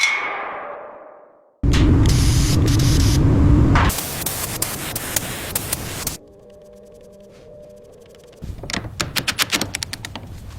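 Spray primer hisses in short, steady bursts onto a model train being restored, alternating with quieter gaps and light clicking, close and fairly loud.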